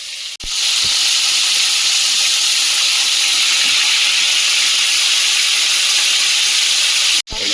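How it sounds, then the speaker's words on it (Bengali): Tilapia fish frying in a very hot frying pan gives a loud, steady, close sizzle and hiss that holds evenly throughout, with no talking. "মাছগুলো ভেজে দিই"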